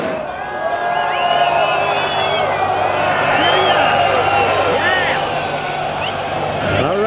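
A large crowd of metal fans in Istanbul murmurs, shouts and chatters in a continuous loud din before a Cannibal Corpse show, with voices talking nearby.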